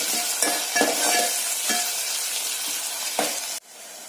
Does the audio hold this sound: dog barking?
no